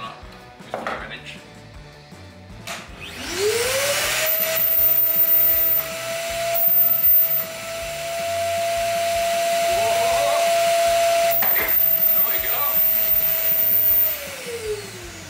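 A Parkside PNTS 1500 C4 wet and dry vacuum cleaner starts up and runs with a loud, steady whine that rises in pitch as it is tested for suction, with a few louder surges and knocks along the way.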